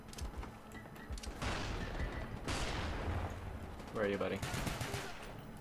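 Pistol fire from Call of Duty: Black Ops 1 comes in loud bursts of shots mixed with other in-game gunfire, with someone talking over the action in between.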